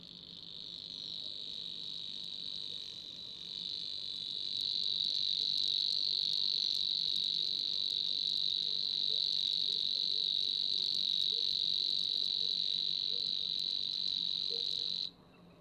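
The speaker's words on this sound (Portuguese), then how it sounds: "a Locustela lucinioides, que é a flosa unicolor ou cigarrinha" A Savi's warbler (Locustella luscinioides) delivers a long, unbroken, insect-like reeling trill, steady and fairly loud for about fifteen seconds before stopping abruptly, with faint outdoor background and no talk.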